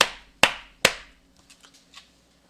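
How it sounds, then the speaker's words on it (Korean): A class claps in unison three times at a steady, quick pace during a lecture, each clap sharp and loud, followed by a few faint, scattered taps. "자, 박수 3번 시작."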